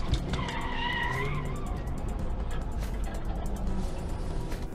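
A car skidding before crashing into a vehicle parked at the roadside: a sustained, wavering tire squeal over road noise, loud and close, with no clear impact heard.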